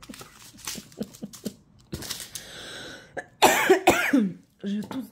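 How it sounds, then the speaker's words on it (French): A woman coughs several times in a short burst, with a throat-clearing fit and some crinkling handling noise, close to the microphone amid faint background sounds. "Je tousse de ma bêtise"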